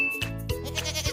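A goat bleats in two or three short, wavering, nasal calls close to the listener, each rising and falling, with brief pauses between them.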